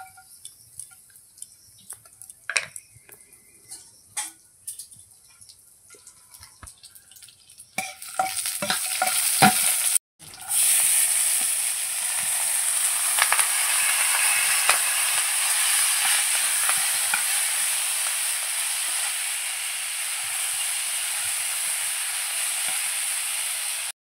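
Rice frying in ghee with garam masala, cashews and raisins in a village kitchen for pulao: sparse spoon clinks and scraping at first, then a loud, steady sizzle and hiss that runs unbroken to the end.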